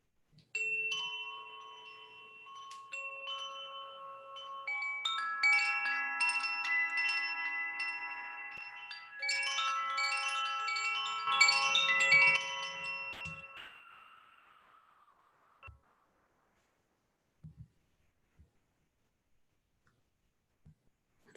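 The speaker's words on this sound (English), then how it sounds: "I invite you to sit with your eyes closed as I sound the chime." A meditation chime sounds during a guided meditation, a cluster of bright ringing metallic tones building and layering for about thirteen seconds before fading into near silence broken by a few faint ticks.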